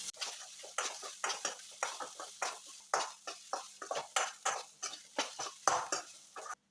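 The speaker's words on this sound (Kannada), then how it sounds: "ಅದನ್ನು ಚೆನ್ನಾಗಿ ಮಿಕ್ಸ್ ಮಾಡುವ." Eggs mixed with green chili and turmeric powder are stirred briskly in a bowl, producing a quick, regular series of close wet whisking strokes with no talk.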